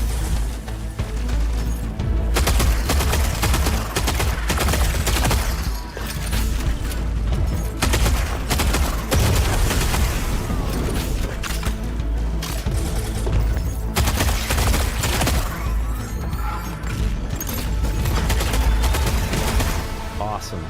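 Dense, continuous gunfire from a shooter video game, with overlapping bursts and explosive hits running loudly throughout, mixed with background game sound.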